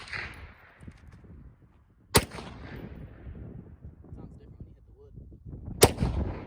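Two sharp suppressed gunshots from a pistol fitted with an OSS suppressor, striking wood, spaced several seconds apart over quiet outdoor background with faint voices.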